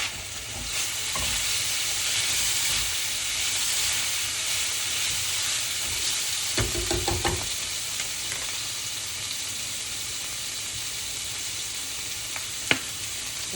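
Broccoli and beans with seasoning bubbling in a pot on the stove, a steady hiss and simmer throughout, with a few scattered clinks and taps of utensils partway through.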